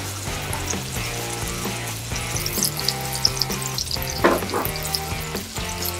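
Fish frying in a hot pan, a steady crackling sizzle with a few brief sharper spatters, heard over background music without talk.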